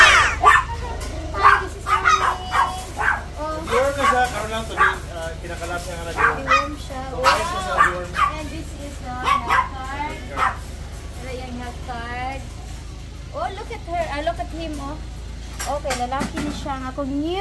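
Black purebred Pomeranian puppy giving small yips and whimpers, close and moderately loud, mixed with frequent talking and cooing voices throughout.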